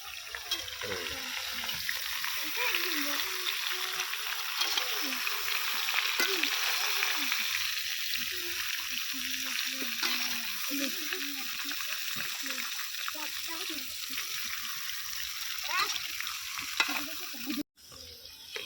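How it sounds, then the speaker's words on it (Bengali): Mango pieces fry lightly in oil for a sweet-sour-spicy mango pickle, giving a steady close sizzle with stirring scrapes throughout; a faint voice may murmur underneath, and the sound cuts off briefly near the end. "তেলের মধ্যে হালকা ভেজে নেবো"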